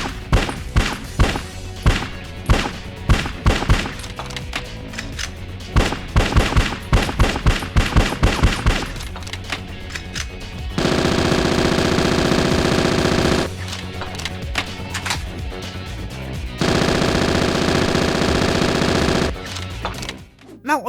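Video game gunfight: fast bursts of machine-gun fire with sharp single shots, then long sustained automatic volleys broken by short gaps, loud and close with no voices.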